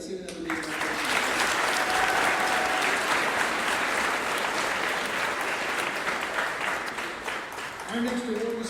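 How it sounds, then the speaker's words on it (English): A crowd at a high school graduation and promotion ceremony gives a long, loud round of applause after an award. The clapping is dense and steady, and a voice briefly returns at the end. "Let's give another big round of applause."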